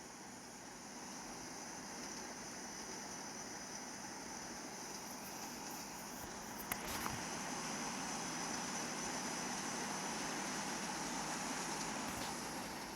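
Airliner jet engines idling at low thrust during taxi in the Infinite Flight Simulator, a steady, even broadband drone that holds throughout with one brief click partway through.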